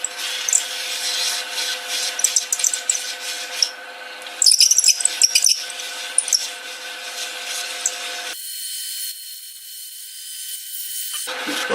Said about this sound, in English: Now, we'll just sand that in. I'll start with 220.